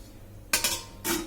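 A metal lid clatters onto a steamer pot of modaks: a couple of sharp clanks close together, then a second settling clink, close and fairly loud in a quiet kitchen.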